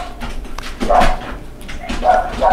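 Dogs in a home barking in bursts, a couple of loud yapping volleys close by, indoors near a spare bedroom, with a person talking over them.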